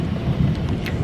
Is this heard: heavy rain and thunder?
yes